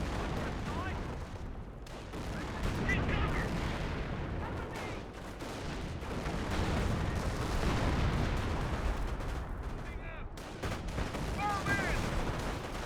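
Gunfire from the video game Company of Heroes, with a Ranger squad and other infantry firing on a garrison, a dense continuous clatter of rifle and automatic shots mixed with rumbling blasts.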